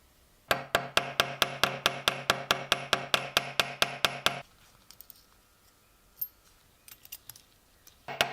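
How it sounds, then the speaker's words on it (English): A ball peen hammer peens and mushrooms the pins of a rusted Filipino balisong being restored, about seventeen sharp, evenly spaced metallic taps in a quick steady rhythm, followed by a few faint scattered clicks. "Using a ball peen hammer, the pins are peened and mushroomed to secure the mechanism"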